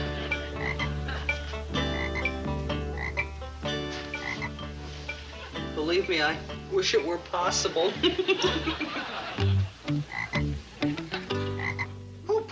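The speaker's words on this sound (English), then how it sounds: "Who put this ugly frog on my desk?" A frog croaks in a sitcom office scene, with low croaks repeating through the clip, alongside someone speaking and some chuckling.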